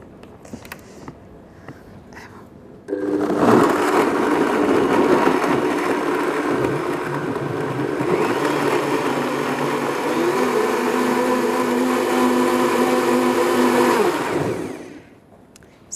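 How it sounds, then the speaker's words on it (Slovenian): A blender mixing a fruit and vegetable smoothie with a pinch of ginger starts after a few quiet seconds, then whirs loudly and steadily with a slight pitch shift midway before winding down near the end. "No, še zmiksamo."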